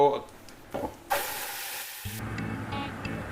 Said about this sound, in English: added the tej patta. Now let it get sauteed for 1 or 2 minutes